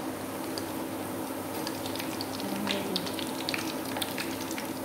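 Vegetable cakes sizzle and crackle steadily in hot oil, with scattered small pops and ticks over a low background hum.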